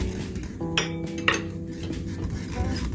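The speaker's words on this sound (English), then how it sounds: "Give it a good mix" Mango and fennel salad tossed in a bowl, with clinks and scrapes of utensils against the bowl in a few brief bursts over a steady low background.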